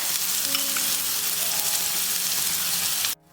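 Finely chopped half onion frying in oil for egg noodles, a loud, even hiss of sizzling that runs steadily and then cuts off abruptly near the end.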